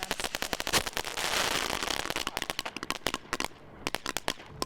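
A legal consumer firework goes off with dense rapid crackling bangs, swelling into a continuous burst of sparks, then breaking into scattered sharp pops that trail off unevenly near the end.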